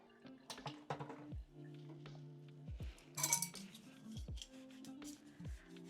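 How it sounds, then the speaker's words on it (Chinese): Dishwashing at a kitchen sink while scrubbing a pot, with irregular clinks and knocks of metal cookware, water drips and a brief burst of rushing water, fairly quiet and close. "现在我要刷锅。"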